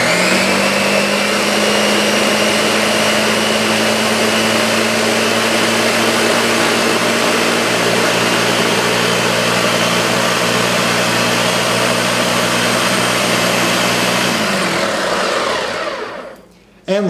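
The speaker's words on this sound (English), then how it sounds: "we're going to turn the power button on this blender, and we're going to watch this all blend together" An electric blender purees a tomato base for hot sauce. Its loud, steady motor whirs close by for about fourteen seconds, then winds down and cuts off near the end.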